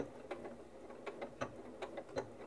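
A Janome MC9400 sewing machine runs a long straight stitch and then a locking stitch, making faint, rapid mechanical ticking with a few sharper clicks at irregular intervals in a quiet room.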